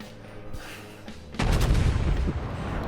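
Battleship Texas in World of Warships firing its main guns: a sudden heavy booming salvo that bursts in loud and rumbles on, following a quieter stretch of engine hum.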